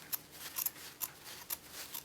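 Scissors snip through fabric at a dress collar during garment trimming, five or six crisp, separate cuts at uneven intervals, close and fairly quiet, with no voices.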